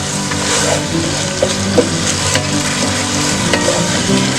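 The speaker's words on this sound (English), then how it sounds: "I've been frying the chicken for about 3 to 4 minutes." Chicken sizzles and crackles loudly in a hot pan, with a steady frying hiss and occasional scrape and clatter of stirring.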